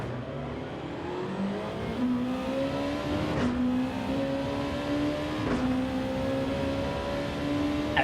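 A Nissan GT-R race car in Gran Turismo 7 drives with a steady engine drone, its pitch climbing through gear changes with two brief shifts, close and continuous at moderate level.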